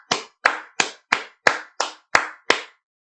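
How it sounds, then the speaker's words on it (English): Eight sharp, close hand claps ring out in an even, quick rhythm, standing in for the staccato trua blasts of a shofar, each one crisp and loud with silence in between and no talking. "Trua claps."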